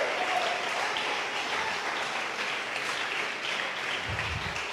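A church congregation claps together during a sermon, a fairly quiet, steady patter of many hands heard from some distance, continuing without pause and with a faint low thump near the end.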